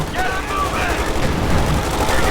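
Dense, sustained gunfire and machine-gun bursts from the WWII strategy game Company of Heroes 2, Ardennes Assault, rattle continuously at close range with no pause.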